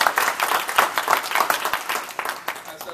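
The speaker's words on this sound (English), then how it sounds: "please give me another round of applause for Amy for her first speech." Audience at a club meeting applauds a speaker, a modest group clapping close by in uneven bursts with a few voices mixed in.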